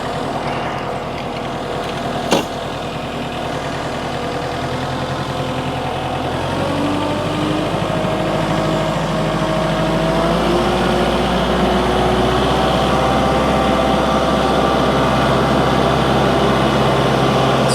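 A large tractor with loaded rear tires, hauling firewood to a log splitter, runs its engine in a steady close rumble for the whole stretch, swelling slightly partway through, with no talk.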